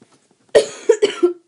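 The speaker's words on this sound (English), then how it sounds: "See, if I breathe like that, then I cough." After a brief silence, a person coughs several times in quick succession, sharp and close, with a short pause before a final cough.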